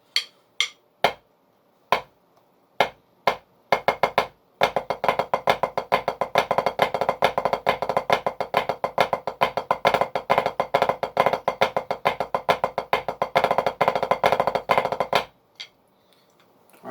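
Sharp stick strokes on a practice pad: a few spaced single hits, then a long steady run of rapid flammed five-stroke patterns, stopping abruptly with a final tap.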